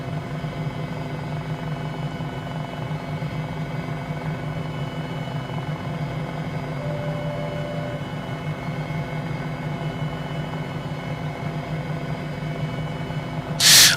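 MD 500E helicopter in Microsoft Flight Simulator, heard as a steady, droning rotor and turbine hum with a low, even rumble that carries on unchanged and alone, ending in a brief burst of noise.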